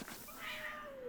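A cat gives a single faint meow that slides downward in pitch and is heard alone, with no talking over it.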